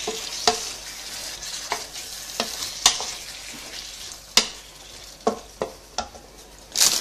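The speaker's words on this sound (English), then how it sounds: "So I'm going to add the can of tomatoes. It's just diced tomatoes in the juice. Stir that through." Canned diced tomatoes in their juice are stirred into chorizo frying in a pan, with a close, continuous sizzle punctuated by repeated scraping knocks of the spoon against the pan.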